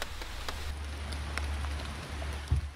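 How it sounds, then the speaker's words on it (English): Steady rain falling in the woods at Olallie State Park, a soft continuous patter of drops with a low rumble underneath and no voices. "it's raining pretty good right now"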